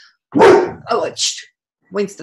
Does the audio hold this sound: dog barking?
yes